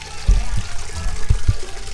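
Water is poured over hands for handwashing, landing in several soft, irregular splashes with brief trickling between them, close by and without speech.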